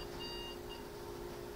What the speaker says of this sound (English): look at that alarm going off